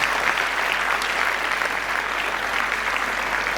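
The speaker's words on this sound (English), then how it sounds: "I think we ought to start with a huge round of applause" A large audience at a chartered accountancy students' conference gives the organizers a sustained round of applause, dense even clapping filling the hall at steady volume with no voices above it.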